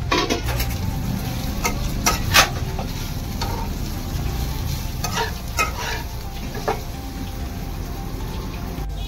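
Grated sweet potato cooking in ghee over a low flame, a soft continuous sizzle with repeated scraping and clinks of a spoon stirring against the pan, close and unaccompanied by speech.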